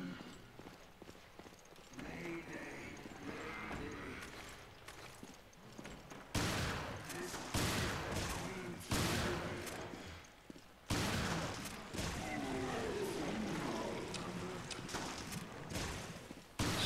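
Rapid gunfire strafing in the video game Resident Evil Revelations on a ship's promenade deck during a boss fight, loud dense bursts with sharp restarts, no talking.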